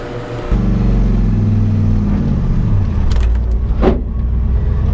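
A 1970 Buick GS engine idles low and steady, then a brief scrape or squeak rises over the rumble as the car sets off on a test drive.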